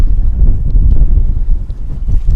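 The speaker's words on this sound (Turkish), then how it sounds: "rüzgar en azından stabilleşti" Strong wind of about 23 knots buffets the microphone on a sailboat in heavy low gusts, with a rushing, roaring texture that never lets up.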